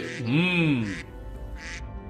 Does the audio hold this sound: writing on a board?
no